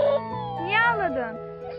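A cat meows a few times close by in a park, with a voice and other talk mixed in over a short stretch.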